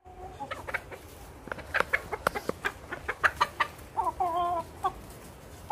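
Chickens cluck in Jamaican countryside, a run of short, close calls in quick irregular succession, with a couple of longer drawn-out squawks near the end and no talking.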